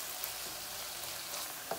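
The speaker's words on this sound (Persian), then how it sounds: "باز یک ذره که گوشت سرخ شد، باز میتونیم سیر را اد کنیم" Ground meat frying with garlic in a pan for lasagna, a steady soft sizzle and hiss with faint stirring scrapes, alone and without talking.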